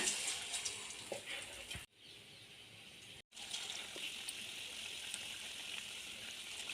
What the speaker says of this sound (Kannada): ಈ ಥರ ಸ್ಟಫ್ ಮಾಡಿರೋಂಥ ಮೆಣಸಿನ್ಕಾಯಿನ ಈ ರೀತಿ ಹಿಟ್ಟಿನಲ್ಲಿ ಡಿಪ್ ಮಾಡಿಕೊಂಡು ಎಣ್ಣೆಯಲ್ಲಿ ನಿಧಾನವಾಗಿ ಹಾಕ್ಕೊಳ್ಳೋಣ